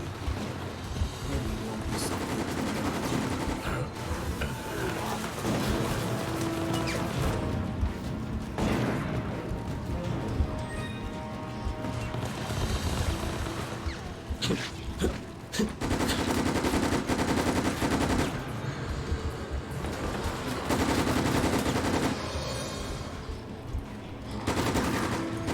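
Sustained rapid submachine gun fire in the video game Operation Raccoon City, loud and dense bursts mixed with game music and effects, with people talking over it.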